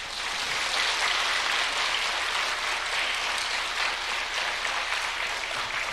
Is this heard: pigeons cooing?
no